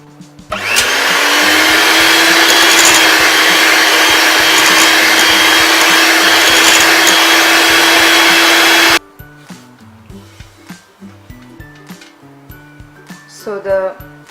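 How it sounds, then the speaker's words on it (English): An electric beater whirs loudly and steadily through strawberry Oreo cheesecake batter for about eight seconds, then stops abruptly, leaving quieter clinks and kitchen handling noises afterward. "So I am going to beat this once again just to combine everything well."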